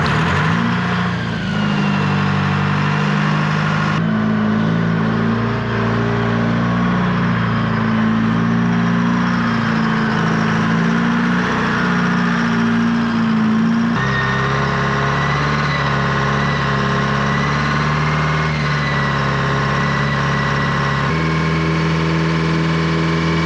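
A cold turbocharged engine warms up at a steady idle, its loud, close drone holding for a long stretch with a few abrupt shifts in pitch and tone, no voices.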